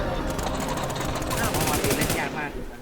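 Rapid video game gunfire rattles off in fast automatic bursts while two enemies are shot down, loud and close, with a voice talking over it.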